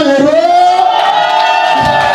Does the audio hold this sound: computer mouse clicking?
no